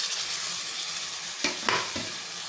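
Boiled potatoes tumble into a pan of tomatoes frying for a potato curry, with a steady sizzle throughout and a few clear scrapes and thumps of stirring near the end.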